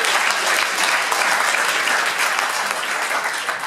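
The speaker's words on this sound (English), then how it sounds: "Let's get a round of applause." Loud, dense applause fills the room for the jury at Startup Weekend Riga. The crowd's clapping stays steady and close throughout and eases only slightly at the end.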